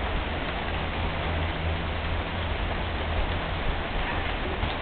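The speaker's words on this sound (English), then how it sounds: "Oh, hail." Hail falling outdoors, a dense, even patter of countless small impacts that continues steadily throughout, with no talking.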